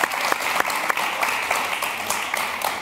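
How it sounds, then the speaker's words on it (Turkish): Steady studio audience applause on a Survivor panorama TV show, dense clapping with a few sharper claps standing out, continuing evenly throughout. "İhsan'a bir moral alkış evet"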